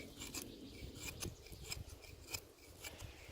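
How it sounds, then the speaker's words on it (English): A Lion Steel M5 knife carves shavings from dried oak, giving faint, close, dry scraping strokes repeated in an uneven rhythm with crisp little snaps, alone without talk. "Some shavings. This is dry wood, guys. Dried oak, actually."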